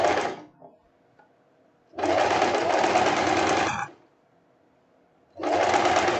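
Sewing machine topstitching over a folded fabric hem on a short printed dress, running in two loud sustained bursts of about two seconds each with quiet pauses between, close to the microphone.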